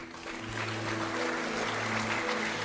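A church congregation applauds together in steady, sustained clapping with a low held organ or keyboard tone underneath, the applause filling the room without a break.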